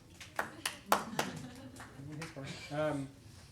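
A few scattered handclaps from an audience at a transportation panel in Austin, sharp and close together at first, then giving way to a voice talking.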